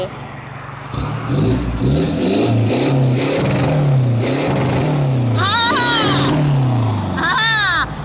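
A Mercedes-Benz S500 engine with rear-exit exhaust idles and revs repeatedly in rising and falling surges, loud and close, with brief voices over it.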